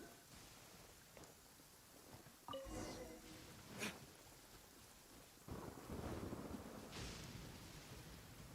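Thunder rumbles and cracks during a rainstorm in the Genshin Impact video game, with a few sharp strikes and low rolling booms over steady rain noise, moderately loud with no talking.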